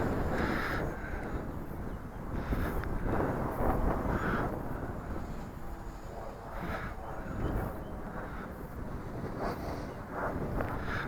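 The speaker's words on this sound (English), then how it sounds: "It's windy though." Strong wind buffets the microphone in a continuous roaring rush, with gusts swelling and easing throughout.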